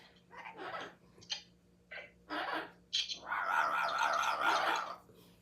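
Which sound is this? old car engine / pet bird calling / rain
pet bird calling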